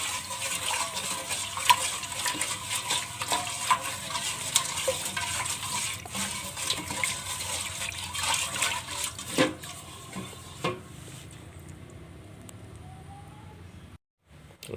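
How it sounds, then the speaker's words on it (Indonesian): Salt is stirred into water for rice goat feed, with a steady sloshing, scraping churn of liquid in a container that tapers off toward the end. "Setelah siap kita aduk sampai rata"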